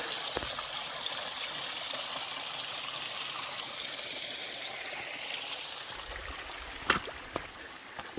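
Stream of water flowing across a hiking trail in Virginia, a steady rushing babble heard up close with a few faint knocks and footstep-like thumps near the end.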